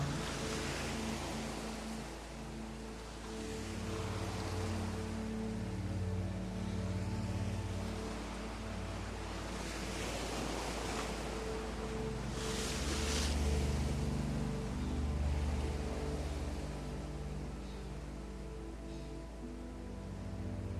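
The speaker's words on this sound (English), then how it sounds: "the rhythm of the waves" Ocean waves wash and roll continuously, with a deep low rumble and soft swells of surf rising and falling at a slow rhythm across the whole stretch.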